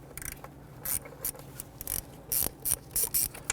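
Hose clamp on the intake tube of an Infiniti G37 being loosened with a tool, giving a series of close, quiet ratcheting clicks in short irregular bursts.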